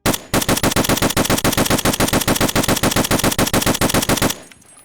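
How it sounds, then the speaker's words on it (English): Rapid automatic fire from an M1A rifle at a distant range target in Escape From Tarkov, a dense, steady stream of loud, sharp shots for about four seconds, then an abrupt stop into a faint tail. "I'm going to shoot the far range target"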